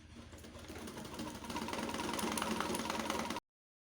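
A sewing machine stitching fabric for a zipper gown, a rapid even mechanical whirring that builds in speed and loudness over a few seconds, then cuts off abruptly.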